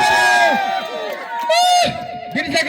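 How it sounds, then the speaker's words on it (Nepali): A crowd cheers and shouts for a contestant at a New Year Deusi Bhailo celebration, loud excited voices and children's shrieks rising in bursts close by. "उसको लागि जोरदार ताली हुनुपर्यो"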